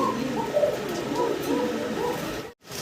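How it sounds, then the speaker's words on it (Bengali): Chinese owl pigeons of Andalusian colour coo softly and repeatedly at close range, low throaty calls over a steady background hum, then a brief cut near the end. "অ্যান্ডালুজিয়ান কালারের চাইনিজ আউল কবুতর ভাই"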